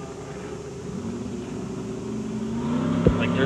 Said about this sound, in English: Next truck up the Swamp Boy, driven by Fred Cormier out of Skidoo.